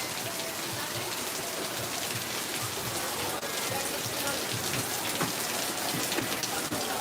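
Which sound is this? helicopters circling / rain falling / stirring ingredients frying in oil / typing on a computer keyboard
rain falling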